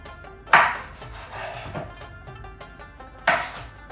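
A large zucchini sliced lengthwise with a knife: two distinct, crisp cutting strokes a few seconds apart, close and fairly quiet, with faint rubbing between them and no talk.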